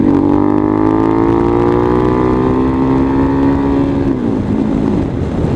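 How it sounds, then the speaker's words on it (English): A Harley-Davidson Pan America motorcycle pulls hard from about 48 mph and 5,000 RPM with the throttle wide open, producing a loud, steady, close engine roar that climbs slowly in pitch before easing off near the end. "I'm going to crack the throttle wide open."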